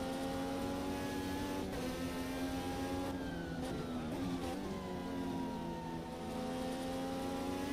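Formula USA race cars in Automobilista 2 on a New York street circuit, engines whining steadily at high revs with shifting pitch as cars pass, continuous and fairly faint, no voices.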